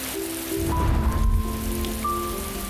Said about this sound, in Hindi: मम्मी बारिश हो रही है।